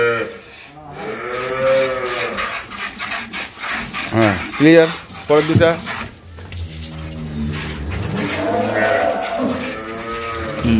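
Dairy cows and calves at an agro farm in Dinajpur, Bangladesh, mooing in long low calls that repeat through the clip, mixed with people talking nearby.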